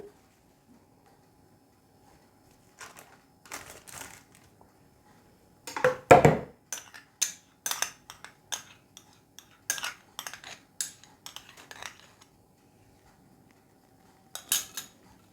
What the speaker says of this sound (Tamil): இப்போ இதெல்லாம் சேர்த்து குறைஞ்சது ஒரு அஞ்சு நிமிஷம் என்றாலும் எல்லாம் ஒன்றோடு ஒன்று சேர்கிற அளவுக்கு அடித்து விட்டு கொள்ளுவோம்